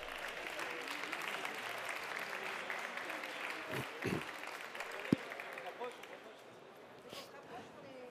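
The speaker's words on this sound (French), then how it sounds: "Et on peut les applaudir encore bien fort collectivement" A group applauds award winners at a ceremony, steady clapping across the clip with crowd murmur and voices talking over it, a few louder knocks near the middle.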